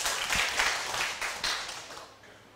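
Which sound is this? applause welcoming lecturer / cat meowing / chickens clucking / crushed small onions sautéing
applause welcoming lecturer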